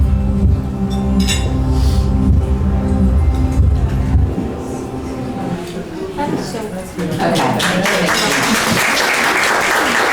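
Audience applause in an intimate comedy room, a dense steady clapping wash that swells and continues loud throughout, with some low rumble and voices underneath early on.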